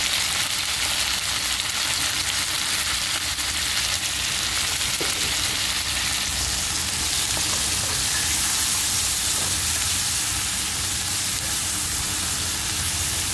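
Condol and chicken breast fry in a spicy seasoning in a pan, a loud and steady sizzle that runs without a break. Occasional scrapes and clinks of stirring cut through it, and nobody speaks.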